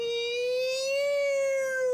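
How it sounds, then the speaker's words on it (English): An air raid siren wails as one long, steady, loud tone that rises slightly in pitch over two seconds. It sounds alone, with no voices. "Or is it air raid sirens?"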